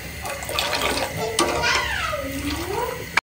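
Halwa mixture in a pot on a high flame starts to boil, giving a steady bubbling, hissing wash of sound with a sliding tone partway through and a sharp clatter at the end.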